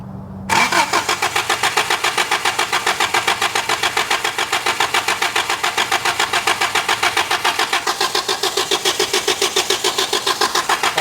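A 1983 Toyota engine, left sitting in a barn for 15 years, cranks over steadily on the starter in a fast, even rhythm that stays loud and close for the whole stretch without catching.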